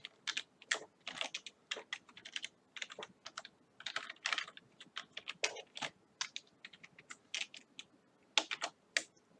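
Rapid, uneven keystrokes on a computer keyboard while code is entered for an Arduino-style climate control project, steady close clicking with short pauses and no talking.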